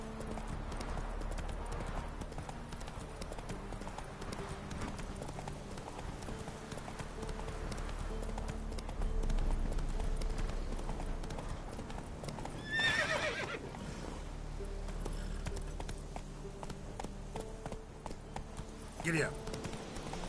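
Horse galloping in the video game Witcher 3, rapid clip-clop hoofbeats rolling continuously under game ambience, with a brief whinny partway through and another near the end.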